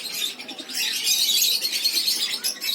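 Bulbul birds chirp in an aviary, a dense, steady chatter of bright calls and tweets running continuously at close range, with no talk.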